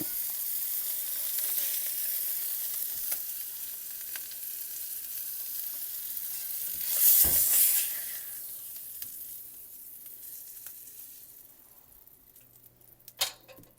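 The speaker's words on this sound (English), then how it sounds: "our non-dairy butter is browning up very nicely. Foaming." Non-dairy butter browning and foaming in a pan, a steady close sizzle and crackle throughout that swells briefly midway, then thins toward the end with a few clinks.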